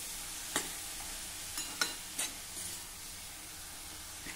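Mango modak filling being sautéed in a pan with mango juice, a faint steady frying hiss broken by a few soft spoon scrapes and taps, with no talking.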